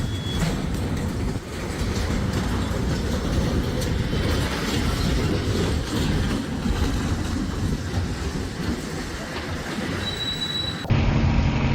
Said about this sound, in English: The Canadian Pacific train in Franklin Park, Illinois slowly tilted off the tracks